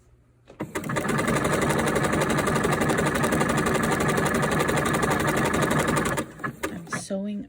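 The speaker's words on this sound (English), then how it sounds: "I'm sewing over my other pieces, and I'm probably going to stop right here." A sewing machine runs in one long continuous buzzing burst as it stitches over layered pieces at the cap of a sweatshirt sleeve for a quilter's coat, then stops and a few handling clicks follow.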